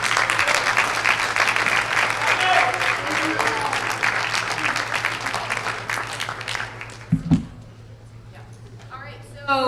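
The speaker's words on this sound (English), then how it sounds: "let's give all of them a round of applause." Applause and crowd noise from a student audience after a high school presidential debate, sustained clapping over a steady hum for about seven seconds before dying away, with voices talking over it and a few brief thumps near the end.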